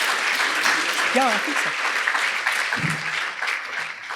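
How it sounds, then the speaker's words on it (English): An audience at a conference plenary applauds presenters with a steady wash of clapping throughout, while a few brief spoken words sound over it. "Can I ask for a big round of applause?"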